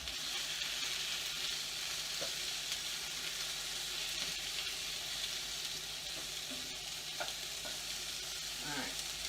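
Breakfast taco filling sizzles loudly and steadily in a hot frying pan as it is tossed, with faint scrapes and clinks over the continuous frying.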